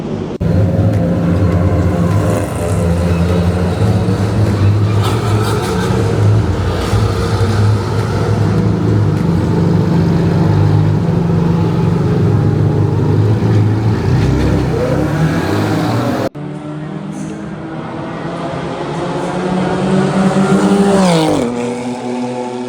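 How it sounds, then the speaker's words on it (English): A BMW race car drives hard during a track test, its engine roaring loud and close with sustained high revs, a gear change, then another rising rev build. "Time for the second test in the BMW, and Eric is going first this time."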